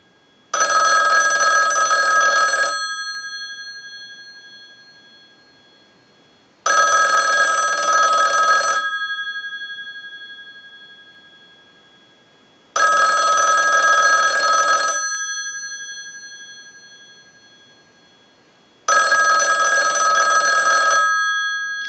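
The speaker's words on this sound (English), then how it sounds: "use the analyzer and send a ring cycle like you were getting a call" A Western Electric 554 rotary wall telephone rings from a test ring cycle sent by a line analyzer. Four loud, even bursts of bell ringing, each about two seconds long, are separated by roughly four-second silences.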